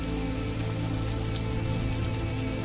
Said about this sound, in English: The rhythm of gentle rain and soft mist became the familiar cadence of Finian's days